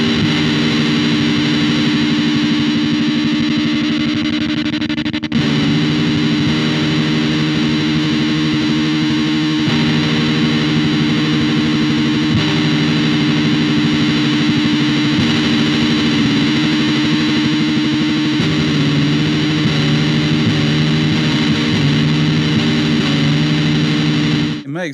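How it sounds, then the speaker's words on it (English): Electric guitar played through a Pedal Partners Violet Oscillation shoegaze fuzz pedal gives a loud, thick, sustained distorted wash with gliding, chorus-like shimmer, held chords shifting a few times with no talk. "We get glitchy synth sounds, we get nice shoegaze glide guitar sounds."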